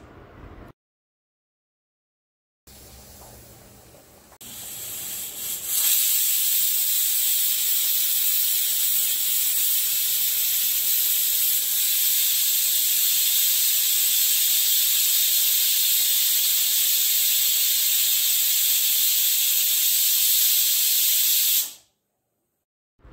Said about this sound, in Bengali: প্রেশারের সিটিটা দিয়ে গ্যাসটা পুরোপুরি অফ করে দিয়েছি